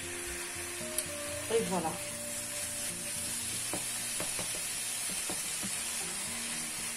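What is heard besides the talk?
minced meat mixture sizzling as it cooks in a pan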